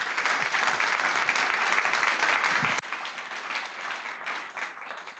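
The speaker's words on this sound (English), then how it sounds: "Round of applause for Miranda and Sherrod." Audience applause at a customer success meetup panel, dense steady clapping from a crowd that drops slightly in intensity partway through and continues to the end.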